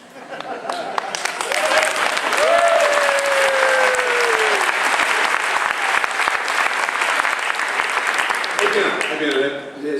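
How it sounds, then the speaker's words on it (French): Audience at the closing session of the 74th IFLA library congress breaks into steady, dense applause that swells quickly and holds for several seconds before tapering off, with a voice briefly audible over it. "Eh bien, les applaudissements."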